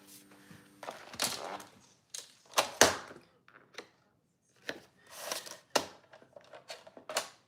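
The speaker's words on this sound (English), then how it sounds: "I need to trim that off." Paper being trimmed at a crafting desk: a series of close, crisp snips and thunks arriving in irregular bursts with short silent gaps between them.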